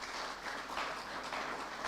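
An audience at a university student forum claps for the student council, a dense, steady wash of applause heard from within the crowd, lasting the whole moment.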